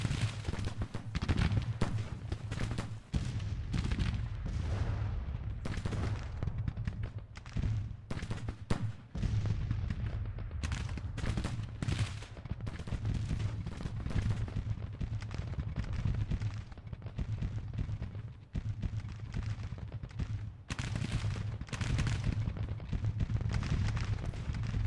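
Thirty-pound Parrott guns firing in a Civil War strategy game, a long run of booming artillery reports, some single and some overlapping, rolling continuously over a rumbling battlefield background.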